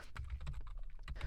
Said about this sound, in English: if I hit the return key or the enter key on my keyboard